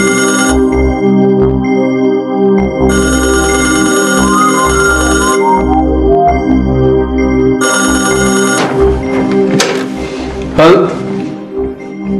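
An electronic phone ringtone plays in repeating bursts over music-like tones, with a few sharp clatters near the end.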